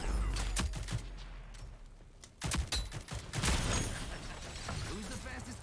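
Rapid bursts of assault rifle fire from an AK-47-style weapon in the Rogue Company shooter game, with loud sharp volleys and short pauses between them, while a player talks over the shooting.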